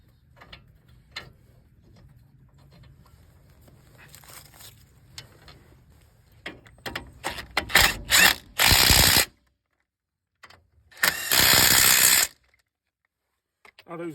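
Ratchet wrench cranking the two 21 mm brake caliper bolts on a 2012 Ford F-150, quick bursts of close, loud clicking with pauses between, after some faint handling noises.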